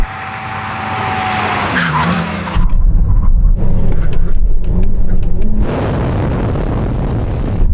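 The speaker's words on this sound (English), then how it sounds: "stay here for the brake test, and here it comes." Cars braking hard in a drag-race brake test between a Yamaha R1M, Porsche Taycan Turbo GT and Ferrari SF90, with loud engine roar and tires skidding and squealing, followed by a sustained rumbling slide and a roaring finish.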